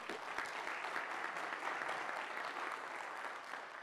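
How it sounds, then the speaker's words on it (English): Steady, dense applause from a large audience at an international forum, sustained clapping throughout without talk. "a big round of applause."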